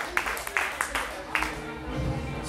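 Scattered claps and whoops from a live audience at a stand-up comedy show, a few sharp hand claps standing out over crowd murmur and music, fairly close but brief and not a full ovation.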